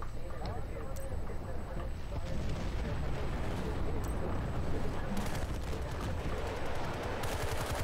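Dense, continuous gunfire and explosions from a Battlefield: Bad Company 2 Rush match, with rapid bursts and booms layered thickly throughout, loud and near, with a player's voice talking over the din.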